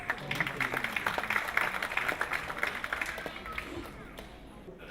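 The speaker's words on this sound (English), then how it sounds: "Ladies and gentlemen, let's have a loud round of applause for them." An audience at an award ceremony applauds the awardees, a continuous patter of many hands clapping at moderate distance, fading toward the end.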